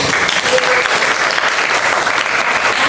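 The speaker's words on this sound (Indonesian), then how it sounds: "Tepuk tangan dulu." Classmates in a school classroom burst into steady, loud applause, a dense continuous clatter of many hands for a few seconds.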